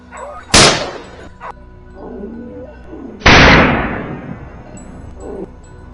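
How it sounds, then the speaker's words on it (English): A pack of hunting dogs bays at a wild boar hidden in a thicket on a rocky hillside, two sharp loud outbursts with scattered fainter yelps and barks between them. "the dogs erupt, barking furiously at a nearby thicket"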